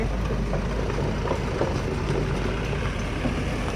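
A motorbike ridden along the broken, badly damaged Wada–Manor road gives a steady, loud engine and wind rumble that stays constant throughout, with no voices.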